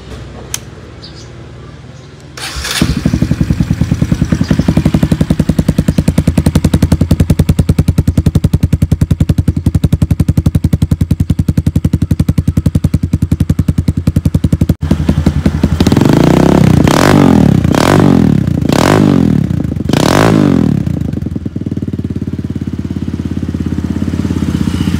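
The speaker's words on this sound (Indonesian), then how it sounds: "Sekarang kita dengerin suaranya." A Kawasaki D-Tracker 150 SE trail motorcycle engine starts up and idles loudly and steadily, then revs hard in several sharp bursts before settling back to idle.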